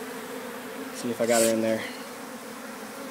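Honeybees buzz close by during a hive removal from a water main access, with a louder buzzing burst in the middle over a steady hum, while a person talks quietly.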